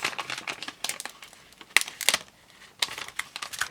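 Sticker backing peeled off a paper nail form, a series of short crinkly rustles and crisp tearing snaps close up, irregular and spaced out with quiet gaps between.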